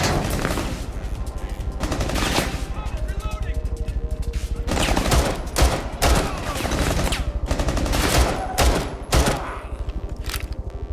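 Gunfire in the video game Rainbow Six Siege during a solo hostage extraction, with rapid automatic bursts running almost without a break, loud and close, and heavier shots punching through at irregular moments.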